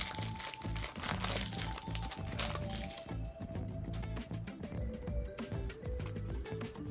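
A Magic: The Gathering Foundations land card pack is torn open, with loud close crinkling and crumpling of foil wrapper and card shuffling throughout, no speech.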